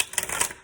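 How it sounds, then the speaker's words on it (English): A deck of playing cards shuffled on a glass table, a quick crisp riffle of rapid clicking flutters lasting under a second, close and fairly loud. "give the cards a shuffle. This is very, very loud on my glass table"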